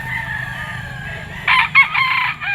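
A rooster crows loudly several times in a row at an outdoor Philippine pet market, its calls rising over a steady background murmur of the market.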